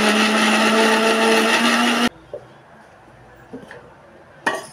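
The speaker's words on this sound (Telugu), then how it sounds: "దీన్ని మిక్సీ వేసేసుకోండి." A mixer grinder purees cooled cooked masala into a smooth paste for hotel-style paneer butter masala. It whirs loudly and steadily for two seconds and then stops abruptly, leaving quiet with faint clinks.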